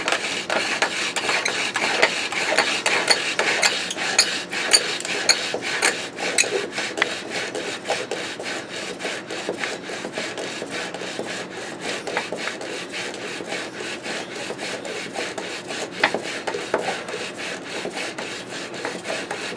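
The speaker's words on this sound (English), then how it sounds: "So this works as a bow drill." A wooden bow drill spins hard against a wooden fireboard to make friction fire, giving a continuous, raspy, rhythmic grinding and squeaking that stays close and loud throughout.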